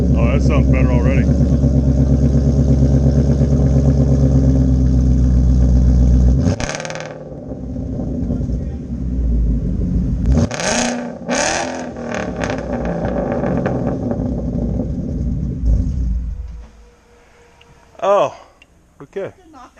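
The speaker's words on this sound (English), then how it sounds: "I took the factory mufflers off and done these resonated tips and everything, got rid of the muffler stuff" A car with a Roush axle-back exhaust and resonated tips revs loudly and close. A sustained deep drone gives way to sharp throttle blips and falling rumbles, then the engine fades to near quiet with one last short rev.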